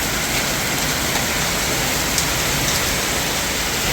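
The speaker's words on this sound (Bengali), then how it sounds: "কত জোরে বৃষ্টি নেমেছে। ছোট্ট ছোট্ট শিল পড়ছে" Heavy rain pours down steadily with small hailstones mixed in, a dense, loud, unbroken hiss of drops drumming on surfaces throughout, with no voices.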